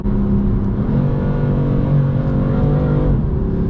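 A BMW M4's 3.0 turbo engine with DCT gearbox revs loudly and steadily, its pitch climbing as it accelerates through the gears, close and continuous with no voices.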